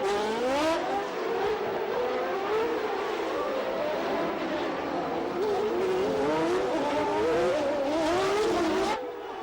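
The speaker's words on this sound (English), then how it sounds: "this is Martin Brundle's cockpit view at Rascasse, closing on Mansell" Onboard sound from a 1989 Formula One car at Monaco's Rascasse corner, closing on another car: a loud, close engine wailing and rising through revs, with shifting pitch, continuous throughout, and faint tyre noise.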